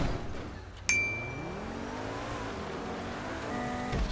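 A Niobe sports car in GTA Online laps a snowy track, its engine droning steadily and rising in pitch after a brief sharp squeal near the start, loud and close with no talking.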